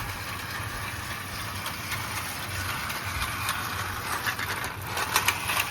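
An O gauge model train engine runs with a steady motor hum and crackling electrical sparking, continuous and fairly close, with sharper crackles near the end.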